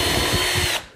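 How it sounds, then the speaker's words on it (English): A power drill whirs loudly and steadily for under a second, its motor pitch holding, then spins down and stops abruptly. "drill the hole with the countersink"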